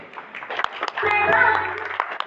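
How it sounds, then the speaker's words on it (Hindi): Clapping from an audience at a business leadership event, swelling briefly to a fuller burst in the middle amid scattered claps and some voices around it. "बहुत जोरदार ताली"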